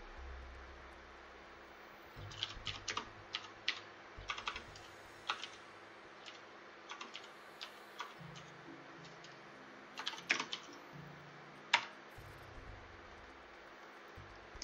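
Typing on a computer keyboard late at night, a steady run of light, close key clicks in short bursts with pauses, over a constant low hum and no talk.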